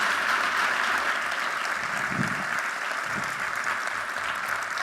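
An audience gives a warm round of applause at an awards event, a steady, fairly distant wash of many hands clapping for several seconds.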